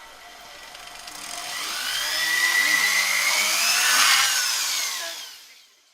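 A 1.6mm bit drills through thin jewellery metal into scrap wood underneath. The high, whining drill rises in loudness and then fades out over a few seconds.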